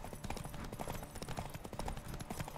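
Horse hooves clip-clop in a steady, rapid galloping rhythm in The Witcher 3 video game, loud and close throughout with dense background game sound.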